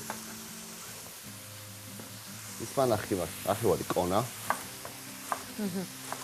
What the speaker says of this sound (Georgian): სანამ ქათამი იწვება